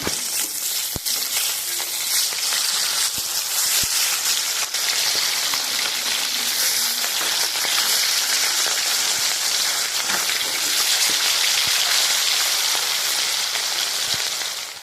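Katla fish fry in hot oil, a dense, steady sizzle like rain on a surface that carries on evenly throughout, with occasional sharp spatter pops and no voices.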